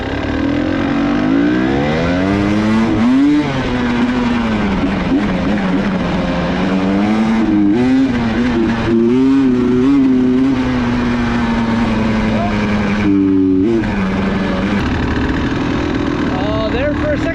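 A fuel-injected (TPI) motorcycle on a test ride, its engine running loud and steady throughout with rising and falling pitch as the rider works the throttle, close to the microphone.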